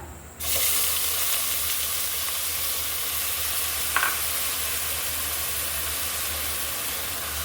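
Onion paste fries in hot mustard oil for a fish and radish curry, giving a loud, steady sizzle that starts abruptly, with one brief scrape of a utensil partway through.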